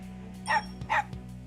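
Koromaru the dog in Persona 4 Arena Ultimax barks twice in quick succession, close and clear over a low steady game hum.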